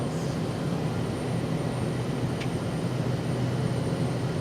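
A Cessna surveillance aircraft passes in flight, producing a loud, steady, broadband engine drone that holds unbroken throughout.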